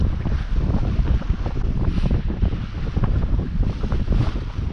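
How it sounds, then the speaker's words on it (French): Strong rising wind on a sailing cruise in Greece buffets and roars across the microphone in steady gusts, with a rushing sea-like wash underneath and no voices. "le vent se lève"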